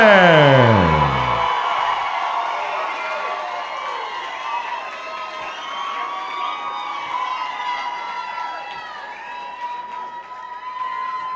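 A large, loud crowd cheers, whoops and shouts continuously after a TKO stoppage at a cage fight at the Grizzly Rose, a dense roar of voices filling the room, with a brief low thud at the very start.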